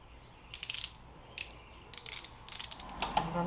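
Ratchet clicking in short bursts while tightening a screw on a cold air intake and throttle body spacer install on a 2021 Dodge, close and fairly loud, with brief pauses between strokes.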